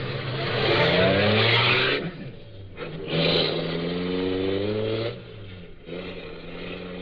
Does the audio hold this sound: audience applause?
no